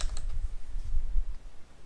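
Quick typing on a computer keyboard while searching Windows power options, a short burst of close, light clicking keystrokes with no voice.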